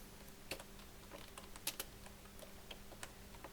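Keys tapped on a computer keyboard while entering Excel column headers, irregular soft clicks over a steady low hum, close and fairly quiet.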